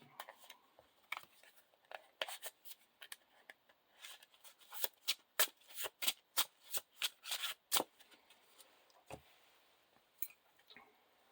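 Playing cards are riffled and bridged repeatedly in a quick burst of crisp, rapid flutters, quiet at first and then louder, with no talking.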